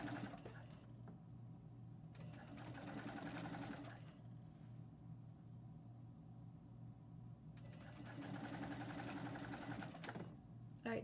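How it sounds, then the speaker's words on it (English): A sewing machine runs a straight stitch through T-shirt fabric, two steady mechanical runs of a few seconds each with a soft hum between them, close and continuous. "We are sewing."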